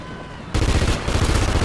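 Submachine gun fire in Call of Duty: Ghosts multiplayer: after a quiet lead-in, a sudden loud, rapid burst of close shots rattles on steadily to the end.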